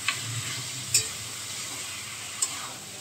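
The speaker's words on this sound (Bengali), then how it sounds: "এই মাংসটা কিন্তু একটু কষিয়ে কষিয়ে রান্না করতে হবে।" Mutton coated in ginger, garlic and green chili paste stir-frying in a pan, a steady broad sizzle with a few sharp spoon scrapes, close and alone.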